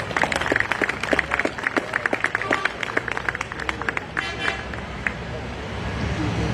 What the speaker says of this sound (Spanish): Los aplausos, por favor.